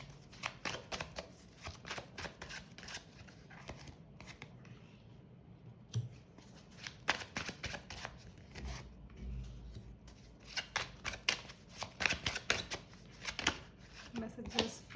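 Tarot cards are shuffled and handled in quick, crisp bursts of riffling and slapping, close and fairly quiet, continuing steadily with short pauses.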